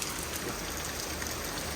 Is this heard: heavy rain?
yes